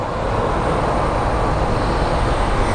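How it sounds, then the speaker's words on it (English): Constant loud mechanical rumble and whir of a moving jet bridge at Sky Harbor International Airport, steady throughout with no talking. "So we hear the jet bridge noise"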